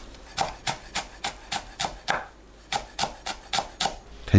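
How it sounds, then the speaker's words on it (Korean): A knife chops green onion finely on a board, about a dozen crisp, even knocks in a quick rhythm with one brief pause, close and clear, with no voices. "파를 작게 썰어주세요."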